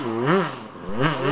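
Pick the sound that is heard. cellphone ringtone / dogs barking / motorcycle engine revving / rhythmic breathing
motorcycle engine revving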